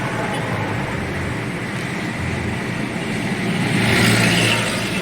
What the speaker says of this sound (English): As always, it's bustling with traffic 24/7, one of the busiest roads of Bangalore